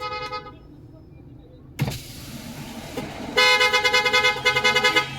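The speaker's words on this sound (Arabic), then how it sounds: "هو مستعجل، هو هيزمر كده" Car horns honk on a busy downtown Cairo street near Ataba, a long toot rising over traffic rumble and then a stream of repeated beeps, fairly close against the hum of vehicles.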